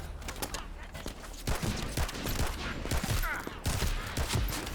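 Sniper rifle and weapon fire in The First Descendant, dense repeated sharp shots in quick succession throughout, with a voice speaking underneath.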